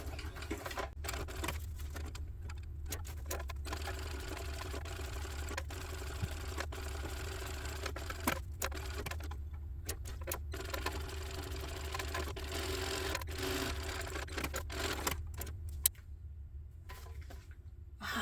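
Home sewing machine backstitching along the side seam of a fabric sling crossbody bag, a fast steady motor whir with brief pauses and stops, close and quiet, no talking.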